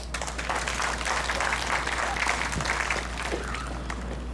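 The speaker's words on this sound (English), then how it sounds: "Please give him a round of applause." Crowd applause at an outdoor political rally in Yigo, Guam, steady dense clapping holding for several seconds at moderate level, no talk over it.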